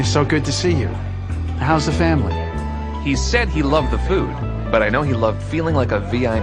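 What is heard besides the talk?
No everyday noises stand out.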